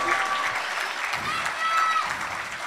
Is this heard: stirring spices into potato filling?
no